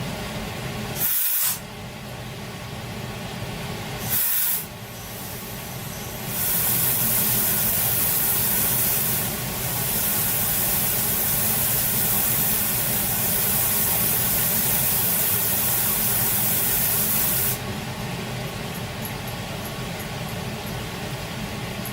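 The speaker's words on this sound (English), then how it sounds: "that noise is compressed air that I'm using a foot pedal to blast through a lock line" Compressed air, triggered by a foot pedal, blasts through a lock line nozzle at a fossil preparation lab bench, a loud steady hiss running for long stretches with brief pauses and shifts in intensity.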